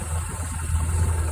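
A 1986 Ford Econoline's gasoline engine with a Carter one-barrel carburetor idles nearby, a steady low rumble with a faint mechanical rattle and no voices.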